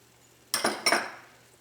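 A metal spoon scrapes and clinks twice against a pan while pepper chicken masala, Chettinad style, is stirred, with two close, quick strokes followed by a fading tail.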